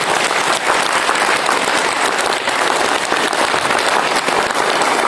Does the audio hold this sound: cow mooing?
no